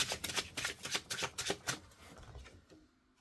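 Tarot cards riffled and shuffled by hand in a quick run of crisp, papery flicks, close and fairly quiet, tapering off into near silence at the end.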